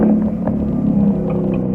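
Dodge Charger Scat Pack V8 with a mid-muffler delete, a loud, deep, steady exhaust rumble heard close, with a slight rise in pitch near the middle and no voices over it.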